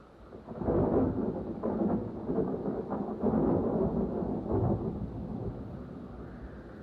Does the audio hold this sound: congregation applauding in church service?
no